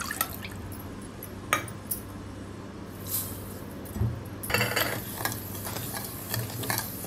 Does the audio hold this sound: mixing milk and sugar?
yes